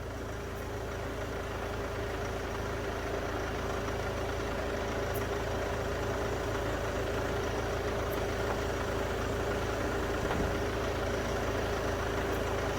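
A car engine idles steadily while its air-conditioning system is recharged, a constant low even hum that holds unchanged with no talking.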